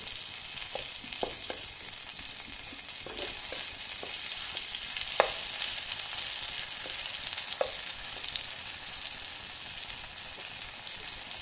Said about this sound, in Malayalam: ലോ ഫ്ലെയിമിലിട്ട് ഫ്രൈ ചെയ്യാവുള്ളൂ.